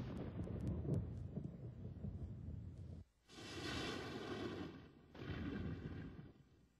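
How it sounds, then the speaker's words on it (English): Violent thunderstorm over the Ground Zero test site, deep rolling thunder rumbling loud and continuous, breaking off briefly and swelling again in two further surges. "a violent thunderstorm builds and breaks over Ground Zero"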